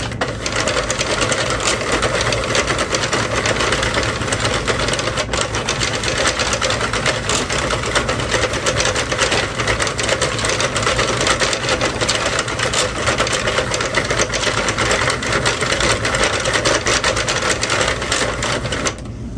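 Steady rapid clattering of a knitting machine carriage working rows, a dense mechanical rattle that runs evenly and loudly throughout with no pauses.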